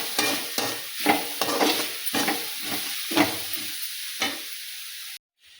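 Radish palya being stirred in a pan, with a spoon scraping and turning the sizzling stir-fry in a series of uneven strokes over a steady frying hiss, with no voices.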